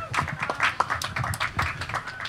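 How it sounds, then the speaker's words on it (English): Applause from an audience at an outdoor discussion tent on nonviolent direct action, dense overlapping clapping with a few voices mixed in, steady and moderately close for a couple of seconds. "Let's give a round of applause, Brother Andre."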